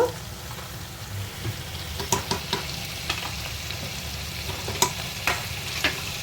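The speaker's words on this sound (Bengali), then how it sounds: "ব্যাস, এখন এটাতে অল্প বাটার দিয়ে দেব।" Butter sizzling in a pan with a little brown sugar while paneer cooks, a steady low crackle with a few sharper stirring clinks scattered through.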